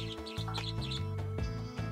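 A bird character's shrill scream in the SkateBird skateboarding video game, a few loud chirping squawks over game music and effects.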